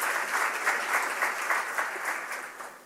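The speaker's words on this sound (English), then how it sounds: "Can you give her a round of applause?" Steady, dense applause from a lecture-hall audience at the fourth Simiso Nkwanyana Memorial Lecture at Unisa, even and sustained throughout, with no talking over it.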